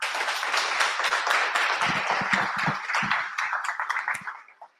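Applause for a team member at a web development bootcamp demo day in Marseille: a room full of clapping, loud and dense at first, with distinct close claps standing out before it thins and fades out near the end.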